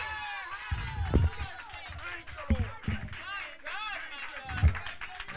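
A church congregation claps and shouts praise, with scattered rhythmic claps and lively vocal calls mixed together in a reverberant room, while a voice speaks over them.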